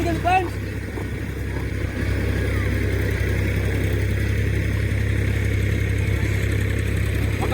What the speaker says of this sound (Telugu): పక్క పొలంలో ట్రాక్టర్ వెళ్తా ఉంది